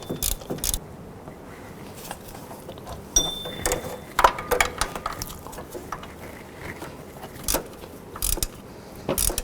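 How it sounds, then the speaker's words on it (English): A hand ratchet clicks in short bursts while tightening the upper water pump bolt on a 2007-11 Honda Civic, with intermittent metallic clatter and brief pauses between strokes, close and fairly quiet. "I'm going to go ahead and tighten up the upper bolt"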